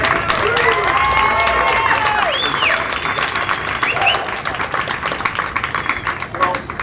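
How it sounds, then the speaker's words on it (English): Audience applause at a Tampa ribbon cutting, loud sustained clapping from a crowd with faint cheers and bright tones mixed in, tapering slightly toward the end. "So let's give them a big round of applause"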